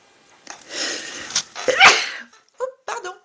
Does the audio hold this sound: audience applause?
no